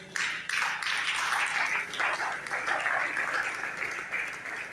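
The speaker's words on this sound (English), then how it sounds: "join me to clap for him again" An audience at a youth awareness and enlightenment event in Benin claps for a speaker, a dense, sustained round of applause that stays steady for several seconds before thinning slightly.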